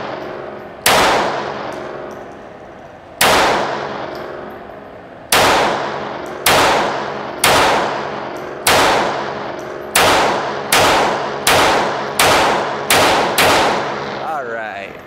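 Thirteen sharp pistol shots from a Beretta 84 Cheetah in .380 ACP at an outdoor range, each crack ringing off steel targets with a long metallic decay, fired at an irregular, quickening pace and loud and close.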